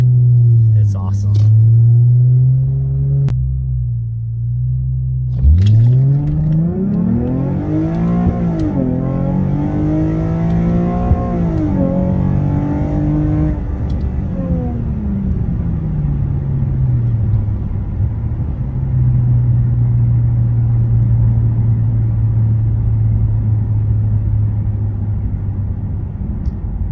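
A 2007 Lexus IS350 launches from low RPM on back roads and accelerates hard, its engine climbing through several gear pulls before settling to a steady cruise drone, loud and continuous inside the car.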